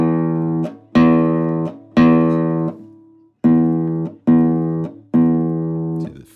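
A classical-style guitar is fingerpicked with the thumbnail, giving six bright, clear single notes that ring out one after another with steady spacing and long decay.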